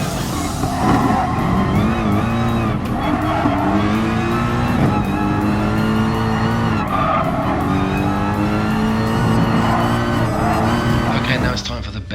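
Racing cars in a PS4 Pro driving game, with loud, continuous engine roar, shifting revs and tire skids, while a voice talks over them.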